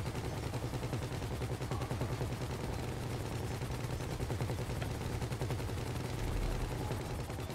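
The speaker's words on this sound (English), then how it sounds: "Keep shooting, you gotta be shooting!" Rapid continuous gunfire from a Grand Theft Auto V shootout rattles on for several seconds, a dense, steady automatic rhythm with no talk over it.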